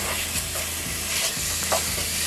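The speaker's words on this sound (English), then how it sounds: "And we're going to give that a good stir." A pot of tomato beef stew seasoned with extra salt is stirred while it sizzles, with a continuous frying hiss and soft scraping strokes of the spoon at an uneven pace, no voices.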